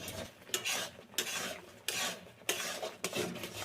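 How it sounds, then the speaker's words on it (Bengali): A raw rice sweet mixture stirred in a pan until dry, with repeated scraping and rasping strokes of a spoon against the metal, rhythmic and close, with no talk. "তো এটা ভালো করে নাড়াচাড়া করে একদম শুকনো শুকনো করে নিতে হবে।"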